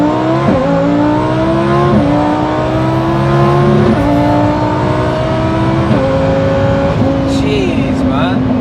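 Twin turbo Lamborghini Huracan rated at 1100 hp, heard from inside as it drives hard, a loud droning engine climbing through the gears with sharp shifts every second or so and rising revs, with a voice talking over it.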